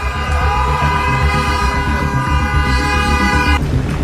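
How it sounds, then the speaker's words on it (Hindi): Car horns sound steadily on streets in China during a protest, several sustained tones overlapping against a loud, busy city background with no voices. "लगातार पूरे चीन में लोग सड़कों पर हॉर्न बजा रहे हैं।"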